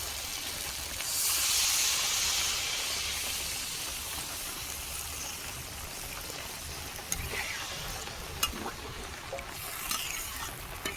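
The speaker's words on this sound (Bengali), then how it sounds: "মশলা কষানো হয়ে গেছে জল দিয়ে দেবো" Water poured into a hot pan of fried spice masala for a Bengali rohu fish curry gives a loud, steady sizzling hiss. The hiss peaks early, then settles into a softer simmer with a few small pops, and no one speaks.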